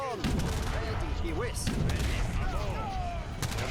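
Cannon fire in Age of Empires III: a flurry of booming shots and thuds mixed with whistling effects in a busy, chaotic battle soundscape.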